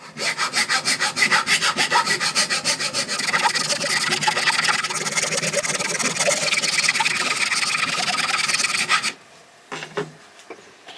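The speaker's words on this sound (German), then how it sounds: "Wichtig auch hier mit Deckel einspannen zum Feilen, damit ihr das Gewinde nicht beschädigt." Rhythmic, fast rasping strokes of a hand file on the neck of a PET plastic bottle clamped with its cap on, loud and close for about nine seconds, then stopping, followed by a few faint knocks.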